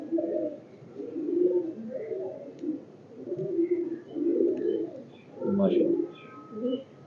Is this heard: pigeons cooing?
yes